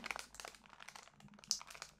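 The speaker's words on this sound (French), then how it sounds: "Là, j'ouvre le sachet 20." A small numbered paper packet is opened by hand, giving soft, close crinkling and rustling with a sharper tear-like crackle partway through, quiet overall.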